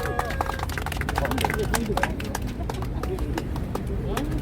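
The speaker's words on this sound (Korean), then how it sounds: "다들 큰 박수로 환영해 주시기 바랍니다" Applause from an audience welcoming a lawmaker at a press conference backing an election law amendment, a dense run of close sharp claps under crowd babble and talk.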